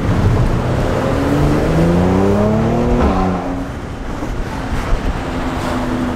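A Mercedes C43 AMG engine roars and revs up in rising sweeps, then drops back to a rumbling idle, loud and close with echo off nearby walls in a Milan street.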